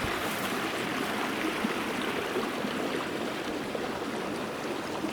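Scepter Creek flows in a steady, even rush of water from start to finish, with no voices over it.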